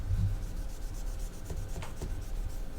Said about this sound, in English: We'll just kind of scrub and see if we can get it off.